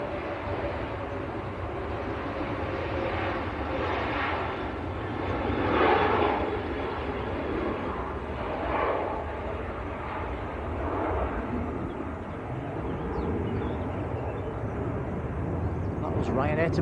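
A Ryanair airliner bound for Berlin is heard at Manchester Airport as a faint, distant engine roar that swells and fades gently beneath ongoing conversation.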